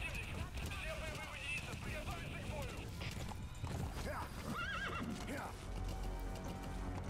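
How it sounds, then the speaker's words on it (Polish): A horse in the video game Metal Gear Solid V gallops with rapid, rhythmic hoofbeats and lets out loud, shrill whinnies, amid game sounds and wind noise. "Pośpieszaj konia i leć."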